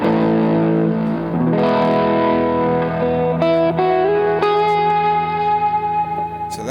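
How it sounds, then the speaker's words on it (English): Electric guitar played through a hard distortion effect, sustained chords ringing with thick, saturated tone and a few chord changes, loud and alone with no talking. "So that's a sort of a hard distortion sound."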